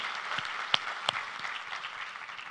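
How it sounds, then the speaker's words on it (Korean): A church congregation claps together, a dense, even wash of applause from many hands filling the brief moment at a moderate distance. "우리 하나님께 감사와 영광의 박수를 드리겠습니다"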